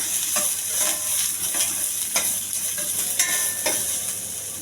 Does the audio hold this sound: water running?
no